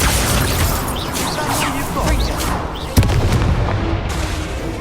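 Incendio fire spell cast in Hogwarts Legacy, a dense, continuous rush of fiery combat noise with a sharp burst near the three-second mark, loud and busy throughout with layered whooshes and impacts.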